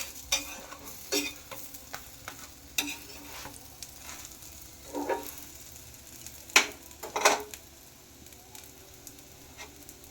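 A spatula stirs and presses a paratha frying in a pan, giving scattered scraping knocks and short sizzling bursts over a soft background hiss, close and moderately loud with no talking.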